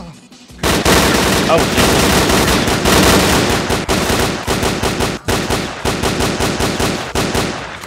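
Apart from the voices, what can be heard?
gunfire from loners shooting in S.T.A.L.K.E.R.: Clear Sky video game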